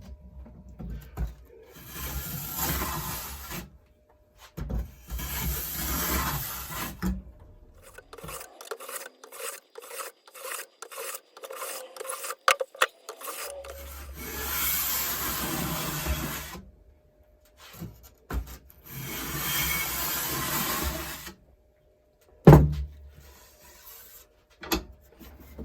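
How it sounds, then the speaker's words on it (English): Hand plane shaving wooden guitar sides square, repeated rasping strokes in bursts of a few seconds with short pauses and lighter scraping between, close and moderately loud. "we're just going to start by planing this to get it a bit more square."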